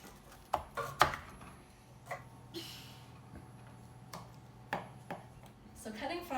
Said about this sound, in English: So cutting fries take a little bit of muscle work